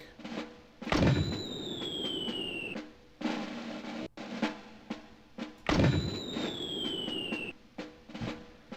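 Tank explosion in the Army Men real-time strategy video game: a loud booming blast with a falling whistle-like tone, followed by a second similar blast, over continuous battle rumble, with no talking.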